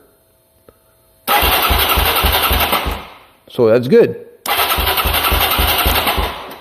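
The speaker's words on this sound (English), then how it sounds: "now we're going to energize this coil inside, and if it works, we'll know because the engine should at least kick over." A Yamaha Tri-Moto engine cranks over in two loud, rapid chugging bursts with a short pause between them, as the coil is energized. A brief voice is heard in the gap between the bursts.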